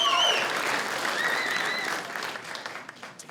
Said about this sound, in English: That's something to clap about.